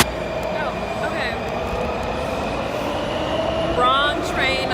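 A passenger train ride in Washington D.C. brings a steady rumble of rolling cars, with rising squealing whines near the start and end and murmuring voices underneath.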